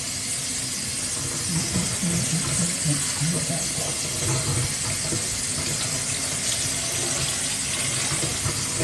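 Tap water runs steadily over thick type 4 afro hair, a constant hissing splash at fairly close range that holds without pause, with no talking over it.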